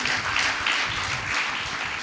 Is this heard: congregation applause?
yes